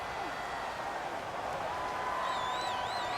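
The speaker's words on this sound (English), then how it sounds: "The crowd's not doing that O-line any favors." Stadium crowd in Madden NFL 18 at a Jaguars at Patriots game, a dense, continuous roar of cheering at moderate level with faint whistles and a commentator's voice underneath.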